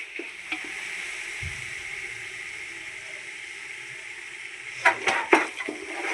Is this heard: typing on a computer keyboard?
no